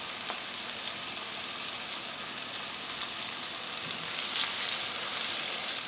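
Eggs fry in a pan for an egg muffin breakfast, giving a steady close sizzle and crackle that holds evenly throughout with no voices over it.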